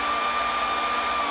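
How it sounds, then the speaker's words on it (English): A blow dryer runs through a homemade SCR speed controller built in an ammo can, giving a steady, loud whirring hiss with a faint tonal hum and no change in pitch. "she's got a blow dryer too. Go steal it, put it to the test."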